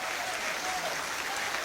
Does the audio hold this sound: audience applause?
yes